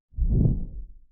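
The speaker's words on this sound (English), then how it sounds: "This is the swing sound of the two-hand sword" A single low, heavy whoosh sweeps past, like a big blade cutting the air, swelling quickly and fading out within a second.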